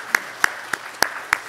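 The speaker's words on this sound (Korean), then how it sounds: "우리 시간 함께 하나님께 영광의 박수 올렸으면 좋겠습니다" A congregation claps during a church service, with five sharp, evenly spaced claps about a third of a second apart, close and crisp, and no voices.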